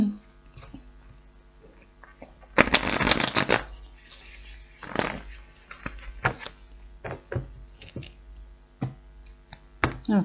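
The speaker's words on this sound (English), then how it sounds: "Another shuffle." Tarot cards being shuffled by hand, crisp riffling bursts and soft flicks close by, with a longer shuffle near the start and scattered taps and slides after, quiet otherwise.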